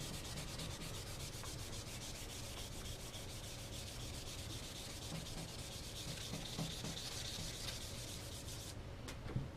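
Sandpaper rubs lightly over a wooden gun stock patched with filler sticks, a steady, close, fine-grained scratching that continues without pause and stops near the end.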